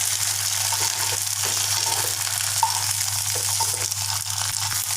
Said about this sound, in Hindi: इसमें इडली डाल देंगे एक एक करके। इनको फ्राई कर लेंगे थोड़ी थोड़ी।